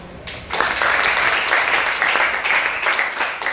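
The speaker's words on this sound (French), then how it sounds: "Acclamez chacun." A church congregation applauds together, a dense, steady wash of clapping that swells in after a brief quieter start and holds at a loud, even level to the end.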